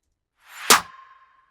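A layered snare drum sample built in Ableton gives a single sharp hit after a short swelling reversed lead-in, followed by a ringing tonal tail that fades over about half a second, heard alone.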